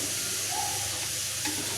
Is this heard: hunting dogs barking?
no